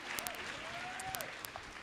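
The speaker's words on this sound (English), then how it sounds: "please give them a round of applause again" Audience applause at a community colleges infrastructure programme launch, a soft, fairly distant patter of many hands, with a few sharper individual claps and a faint sustained tone running underneath.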